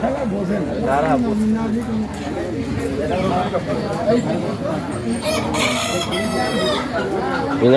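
Chickens cluck busily nearby while a rooster crows, set against the chatter of a crowded poultry market where Sonali chickens and Chinese ducks are sold, with people talking throughout.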